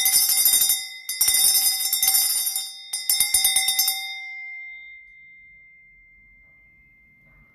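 Bell strikes ring out in a quick cluster of bright metallic dings over about four seconds, their sustained tones lingering and fading into near silence, alone with no voices.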